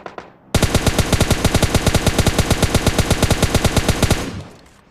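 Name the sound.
gunshots in PUBG Mobile Lite video game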